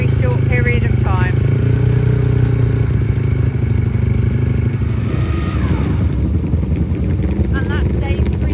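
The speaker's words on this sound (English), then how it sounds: "So that's the little 350 starting up for its race in a very short period of time." A classic 350cc racing motorcycle fires up at a pre-TT classic race meeting in Castletown, Isle of Man, its engine clattering and revving loudly nearby amid other machines, with voices talking over it.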